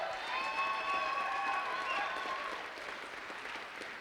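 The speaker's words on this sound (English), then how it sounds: "One more round of applause for these wonderful humans." Steady audience applause for candidates at a political party debate event, a dense wash of clapping with a few tonal voices and cheers mixed in, gradually easing off over a few seconds.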